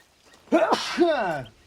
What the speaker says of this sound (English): There's that sneeze.